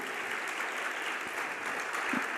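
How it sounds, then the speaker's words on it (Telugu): Congregation at a church gathering clapping together in praise, a steady dense wash of hand claps sustained throughout at even loudness, with no voices over it. "చప్పట్లు గట్టి కూడా దేవుని స్తుతిద్దాం."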